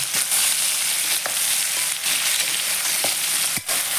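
Pirandai (adamant creeper) sautéing in a pan, a steady broadband sizzle and fry with occasional scraping stir clicks, close and continuous with no voices.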